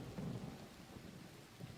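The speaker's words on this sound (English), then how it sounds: "We just gotta make sure not to get struck by this lightning." A lightning storm during a video game event: steady rain hiss under low rolling thunder rumbles that swell and fade throughout, with no voices.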